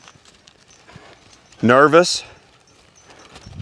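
Faint, soft hoof clops from a horse walking sound in the background, while a voice briefly speaks a single word in the middle.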